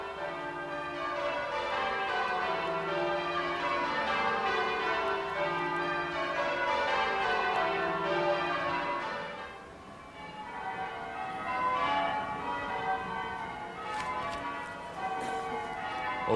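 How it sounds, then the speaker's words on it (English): Church bells toll at St David's Cathedral in Pembrokeshire, Wales, in a continuous, overlapping peal of ringing tones that fades slightly midway and then swells again, with no voices. "the bells of St David's there tolling will be heard all along the coast of Pembrokeshire there"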